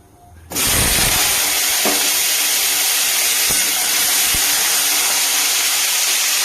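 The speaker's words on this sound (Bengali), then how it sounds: "আলুগুলোকে একটু ভেজে নিচ্ছি, এটা কিন্তু সাদা তেলেই হবে।" Diced potatoes hit hot white cooking oil with a sudden loud hiss that settles into a steady, close frying sizzle, with a few faint clinks along the way.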